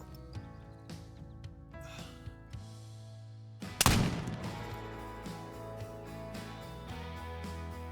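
A muzzleloader rifle fires once in theHunter: Call of the Wild while hunting mule deer, a sharp, loud crack about midway that rings off into a fading tail over quiet game ambience.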